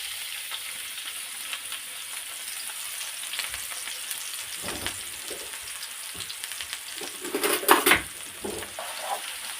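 Onion fries in olive oil in a pan for a Moroccan chicken and vegetable tagine, with a steady close sizzle, occasional stirring scrapes and a louder clatter of utensil on pan near the end.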